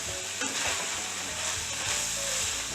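Flour stirred into a hot frying pan while cooking for a cheesesteak sandwich filling, giving a steady close sizzle with scraping stirs across the pan and no voices.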